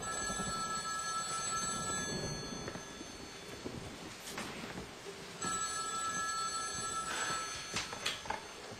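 A home telephone rings late at night, with repeated electronic bell bursts running steadily through a quiet room, fairly faint with no talk.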